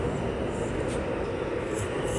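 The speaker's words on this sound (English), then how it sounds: "My train is coming in, so I'm about to make a move." A train arriving at a station, heard as a continuous rumbling roar with hissing rail noise, steady and fairly loud throughout without speech.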